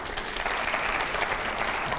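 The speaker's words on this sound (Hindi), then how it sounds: "दूसरे सवाल से पहले जरा जोरदार तालियां हो जाए पहले" Enthusiastic applause from an audience at a Hindi-language televised political interview, a loud, continuous roar of many clapping hands with no talk over it.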